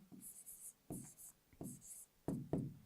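Pen or chalk writing during a math lesson, heard as a series of short scratching strokes and taps in uneven bursts, close and quiet, with no talking.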